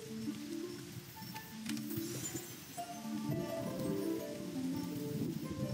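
Rain falls steadily in the rainy woods of the Roblox game Royale High, a soft, continuous patter with rustling, layered under faint game music tones.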